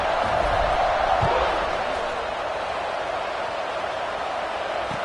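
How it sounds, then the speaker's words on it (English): A football stadium crowd at a Nebraska versus Alabama game buzzes with a continuous dense roar after a score, loud and unbroken throughout. "this crowd is buzzing after that last score"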